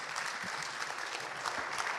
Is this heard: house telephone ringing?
no